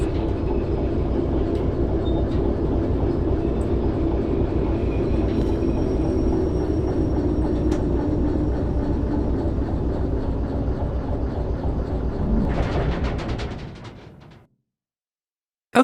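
A locomotive in the train game Derail Valley rumbles and clatters steadily over the rails, loud and continuous, then fades out and stops abruptly near the end.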